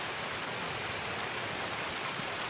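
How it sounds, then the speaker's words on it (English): Steady rain in the Escape from Tarkov game, a dense, even hiss of drops on surfaces that fills the whole stretch at constant loudness, with no voices over it. "I can't hear very well because it's effing raining"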